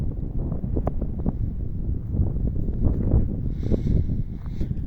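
Wind gusts across open village farm fields, buffeting the microphone with low, uneven rumbling pulses and faint rustling, with no one speaking.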